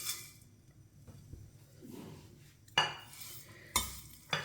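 Brick-style vermicelli roasting in lightly heated oil in a pan over a low flame gives a soft, steady sizzle with stirring scrapes. Three sharp clinks of a utensil against the pan ring out near the end.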